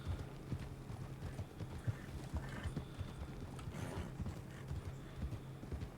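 Horse hooves clip-clopping in the video game Red Dead, a steady rhythmic trot of moderate loudness with faint game ambience beneath and no talking.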